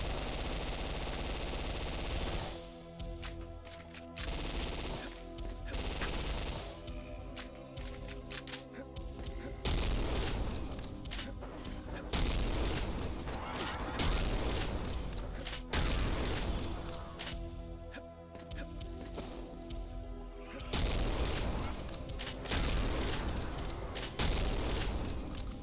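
Rapid bursts of game gunfire and booming blasts from Doom, loud and dense throughout, with shots stacking into sustained volleys and short pauses between waves.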